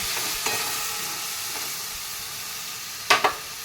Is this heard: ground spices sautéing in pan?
yes